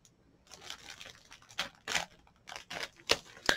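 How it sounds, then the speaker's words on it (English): Small scissors snip open subscription box packaging in a quiet room, giving a few sharp cuts and plastic crinkles in an irregular rhythm, close and fairly soft. "I'm using these little scissors that came in one of my boxes."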